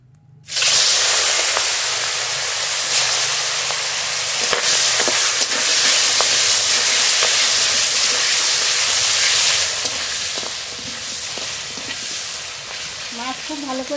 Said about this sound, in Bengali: প্রথমে জিওল মাছ ভেজে নেব। জিওল মাছ দিয়ে দেব।